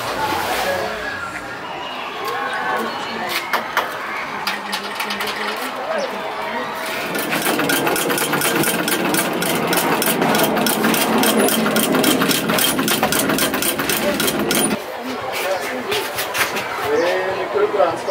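A sewing machine runs steadily at a tailoring workshop in Rwanda, a fast mechanical chatter that rises and holds for long stretches, with voices and background chatter mixed in throughout.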